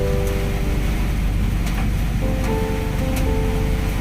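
Heavy, gusty rain pours down in a dense, continuous hiss, loud and close, with a low steady hum and faint tonal drones beneath it.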